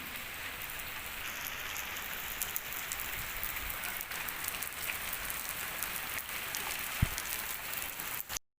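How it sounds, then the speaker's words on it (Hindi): Heavy rain pours down in a village, heard from under a roof as a dense, steady hiss of drops, with a single sharp knock near the end and no voices. "अल्हम्दुलिल्लाह बहुत ज़्यादा बारिश शुरू हो गई है, तेज़, काफ़ी तेज़ शुरू हो गई बारिश।"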